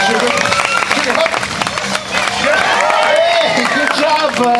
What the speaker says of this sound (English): Come on, everybody, clap those hands.